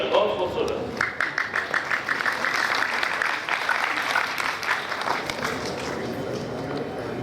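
Studio audience at a televised Khatm-e-Nubuwwat quiz show applauds steadily for several seconds, dense clapping that stays loud throughout with some background voices.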